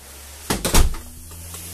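A glass shower door in a 2020 Sprinter Campfire 31 FWMB fifth-wheel bathroom is handled, giving a few quick close knocks and a rattling thud, then a quiet tail.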